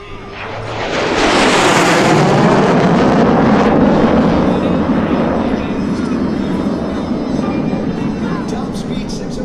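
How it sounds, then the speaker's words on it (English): A MiG-17F fighter jet roars past at an air show, swelling quickly from the left into a loud, broad rush and holding as a steady, sustained thunder as it passes nearby. "MiG-17F coming in from your left,"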